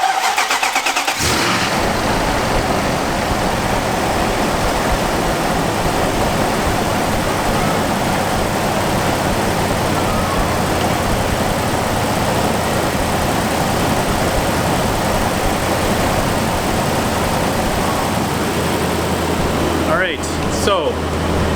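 A car engine cranks and fires after being boosted with an AVAPOW portable jump starter, then settles into a steady, loud idle that runs on for the rest of the stretch, with a voice briefly heard.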